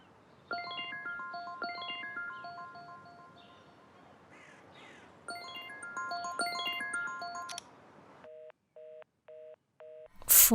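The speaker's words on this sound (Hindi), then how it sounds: "फोन उठाओ नदीम, फोन उठाओ।" Phone ringtone in an Urdu-dubbed drama: a bright melodic electronic tune plays in two bursts with a quieter pause, then a few short repeated electronic beeps before a loud noise burst at the end, with no talking.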